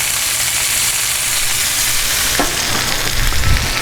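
Pork chops sizzle steadily on a gas grill with one burner on high, a dense continuous frying crackle with a brief sharper pop midway and a low rumble building near the end.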